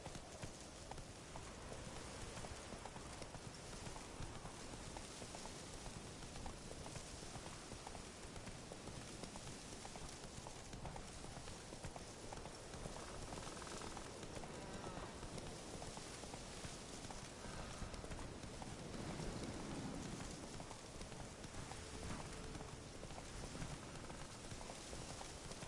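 The horse galloping in The Witcher 3 video game, a continuous rapid clip-clop of hooves lasting throughout, steady and fairly loud, with a rain-like rushing background and no voices.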